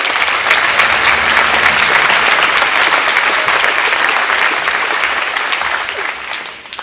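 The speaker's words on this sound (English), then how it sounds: "Let's all please give those two teachers a round of applause for what they do for all of their students." Sustained applause from a graduation audience at the Wessington Springs 2019 ceremony fills the room at a steady, full level for several seconds, then thins and fades toward the end.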